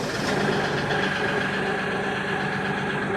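Tractor engine running at a steady idle, a continuous close, loud mechanical rumble with a knocking diesel-like throb on a homestead, heard alone without voices.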